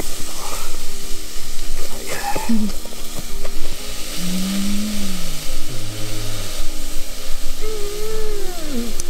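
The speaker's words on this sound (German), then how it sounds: "Zwiebeln und Knoblauch sind angedünstet." Onions and garlic sautéing in a pan at a snowy winter campsite, with a steady, loud sizzle filling the whole stretch while a few brief tonal sounds pass over it.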